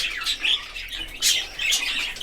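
Budgerigars chirping nearby in quick bright bursts and trills, several short calls overlapping in a lively run with no talk.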